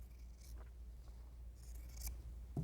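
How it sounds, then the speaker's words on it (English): Scissors cut through quilt fabric along a center line, giving a few quiet, close snipping and sliding sounds with brief pauses between cuts. "So the next step is to cut on the center line."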